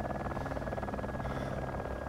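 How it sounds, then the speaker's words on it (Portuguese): A helicopter in the Arma 2 Wasteland game sets down, its rotor a constant loud chopping drone with an engine whine that holds steady for a couple of seconds. "Vou ter que pousar o helicóptero."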